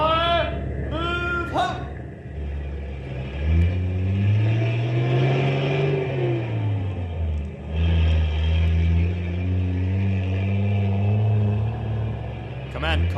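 Military convoy vehicles start up and pull away, heavy engines rumbling and rising in pitch as they rev and move off, with a voice heard over the noise.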